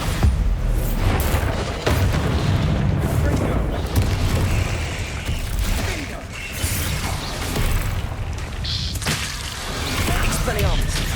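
Bombarda blasting-spell explosions in the Hogwarts Legacy video game during busy spell combat, with repeated booming impacts and clattering effects over a loud, continuous layer of game sound.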